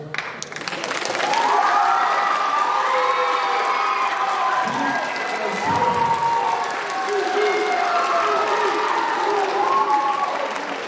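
Audience at a high school case challenge presentation breaks into loud, sustained applause with cheering and whoops, steady throughout and drowning out other sound.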